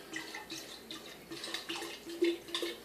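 Cider poured from a bottle into a freshly washed glass, a soft liquid trickle with small splashy bursts running steadily for a few seconds, close and quiet.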